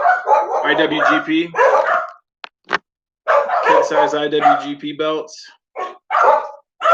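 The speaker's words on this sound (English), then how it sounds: "Someone's at my house, so my dogs are going a little crazy." Dogs bark excitedly at someone arriving at the house, yips and barks coming in bursts under and between a man's continuous speech.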